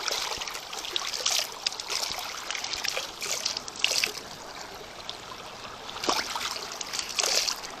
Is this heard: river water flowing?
yes